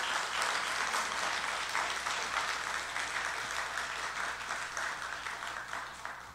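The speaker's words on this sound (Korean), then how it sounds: "우리 아이들에게 박수 한번 크게 한번 쳐주세요" Congregation applause for the children at a Sunday evening church worship service, a steady broadband wash of many hands clapping that holds for several seconds and slowly thins toward the end.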